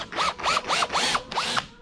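A power drill backs out screws in a series of five short whirring bursts, each rising and falling in pitch, close by with brief pauses between them.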